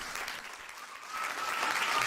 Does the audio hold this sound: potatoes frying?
no